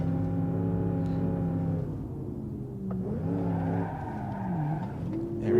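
A Gavril H-25 drifts in BeamNG.drive, its engine droning and shifting pitch as the tires squeal through the slide, loud and close with no talking.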